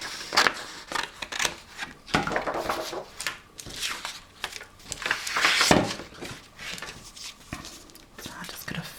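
Scissors snipping through paper and cardstock at a junk-journal crafting table, several short close cuts among rustling paper and a soft low voice.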